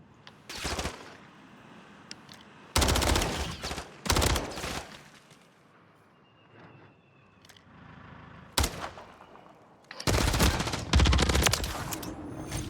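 Gunfight in the video game Call of Duty MW3, with several loud bursts of automatic weapon fire separated by quieter pauses, the heaviest volleys near the start and end, no talk.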